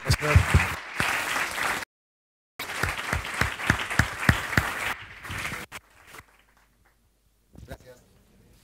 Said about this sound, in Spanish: Un aplauso, por favor, para...